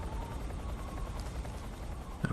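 A helicopter in the video game Metal Gear Solid 3 Snake Eater gives a low, steady rotor thrum at moderate distance, with a faint thump near the end and no voices.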